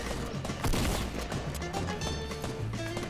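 Rapid gunfire in the Fortnite Battle Royale video game, a run of sharp shots and bursts with a louder cluster near the start, mixed with game sound effects and tones.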